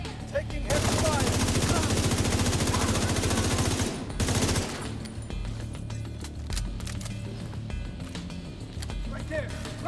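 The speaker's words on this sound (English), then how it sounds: "Taking heavy fire." Heavy automatic gunfire in the video game The Division 2 roars in a dense sustained burst for about four seconds, then thins into scattered shots and game noise.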